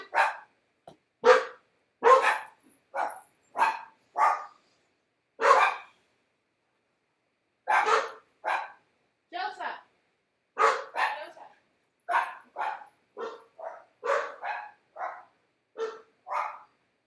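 Several dogs bark in a home, with loud, sharp barks and yips in irregular bursts, some in quick pairs, through the whole stretch against an otherwise quiet background.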